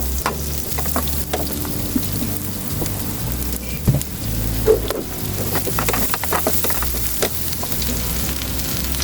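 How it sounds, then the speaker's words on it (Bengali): Chopped onion and garlic fry in oil, a dense, close sizzle with irregular crackles and stirring clatter over a low rumbling background. "তেল দিয়ে দিলাম মাঝারি সাইজের দুটো পেঁয়াজ কুচি দিয়ে দিলাম রসুন কুচি ভেজে নিব"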